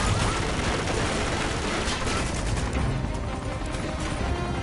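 Dense, continuous gunfire in Uncharted: The Nathan Drake Collection, a loud barrage of overlapping shots and bursts with no pauses.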